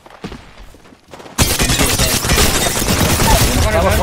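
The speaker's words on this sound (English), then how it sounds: "The dude to the east is well shooting us in the back." Dense, loud burst of rapid gunfire in the Apex Legends battle royale game, starting abruptly after a quieter opening and continuing as sustained overlapping shots.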